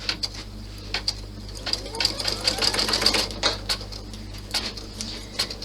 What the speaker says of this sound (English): I'm going to stitch out both the one placement for the corner.